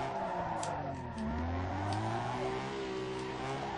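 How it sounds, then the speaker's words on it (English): Car engine revving hard in first gear in Need for Speed Underground 2, a steady loud drone with rising and falling pitch sweeps, close and continuous with no talking. "let's use this first gear a little bit more then"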